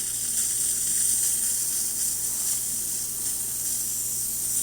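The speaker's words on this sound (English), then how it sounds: "As you can see, we've got nice strong steam." A steady, strong hiss of steam jetting from a La Pavoni espresso machine's steam wand, constant throughout with a low hum underneath and no talking.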